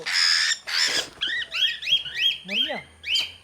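Close, harsh bird squawks come in a quick series of about eight loud, separate calls.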